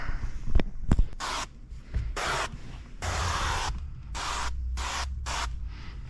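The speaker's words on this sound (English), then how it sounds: "we'll get a good mist on there, and then we'll scrub this whole windshield down" Repeated bursts of a spray bottle misting cleaner onto the windshield of a 2025 Toyota Camry, several short hisses in an uneven rhythm, close and fairly loud, following a couple of sharp clicks.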